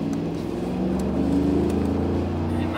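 A 2014 Mercedes-Benz G63 AMG accelerates, its engine a steady, loud growl whose pitch climbs gradually over a few seconds, heard from close by without speech.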